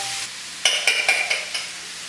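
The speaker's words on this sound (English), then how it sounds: "we're gonna slowly mix it all up" A spoon works through a cookie dough mixture of wet ingredients and chocolate chips in a bowl, giving five quick scraping strokes in an even rhythm, close and fairly loud, with no talking.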